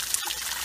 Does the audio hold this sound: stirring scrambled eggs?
no